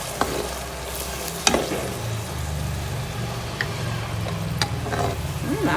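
Sweet and sour sauce mixture sizzling in a pan with chicken, a soft steady bubbling sizzle with occasional sharp clinks and scrapes of a utensil, heard close with no talk.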